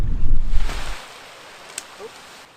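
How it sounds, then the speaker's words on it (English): Gusty wind rumbles and buffets the microphone at first at the end of a lake in the Canadian backcountry, then eases into a soft outdoor hush. "It's pretty windy here at the end of the lake."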